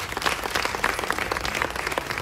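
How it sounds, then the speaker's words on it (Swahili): Audience applause for Mkubwa Fella at a Mbosso event, a dense burst of clapping from a crowd that holds steady and moderately loud for a couple of seconds. "Kwa shukrani nyingi na makofi mengi kwa Mkubwa Fella kwa wakati huu."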